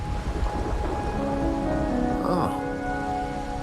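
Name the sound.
rain in the video game Wuthering Waves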